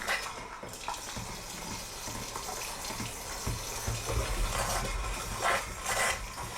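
Water runs steadily from a faucet inside a house, a continuous close splashing stream with no talk over it.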